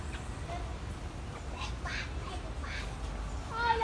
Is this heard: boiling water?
no